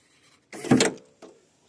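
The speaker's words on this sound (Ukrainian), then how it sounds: "Беремо цю кнопку тепер у руки і нажимаємо" An Opel Astra H tailgate button is pressed and the lock actuates: a short mechanical whir and clunk lasting about half a second, then a softer click just after, close and fairly quiet.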